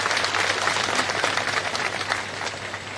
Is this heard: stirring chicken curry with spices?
no